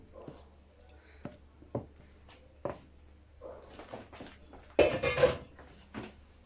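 A spoon stirs a rice cake mixture in a bowl, giving scattered clinks and scrapes against the dish, with a louder clattering burst partway through.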